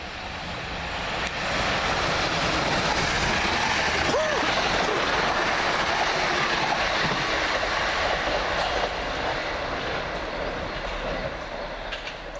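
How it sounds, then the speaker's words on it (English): A Gatwick Express passenger train rushes past close by, a loud, steady roar of wheels and rushing air that fills the whole stretch and eases slightly at the end. "here comes 1 Delta 20 Gatwick Express service from Victoria to Gatwick"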